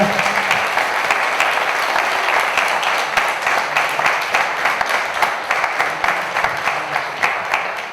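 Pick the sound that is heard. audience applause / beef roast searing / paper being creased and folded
audience applause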